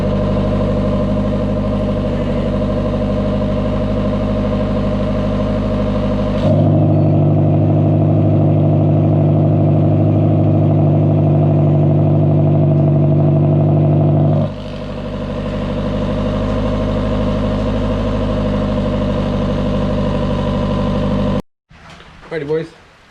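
A car engine idles close by while warming up, a steady low hum that grows louder and fuller for several seconds before settling again, then cuts off near the end before brief talk.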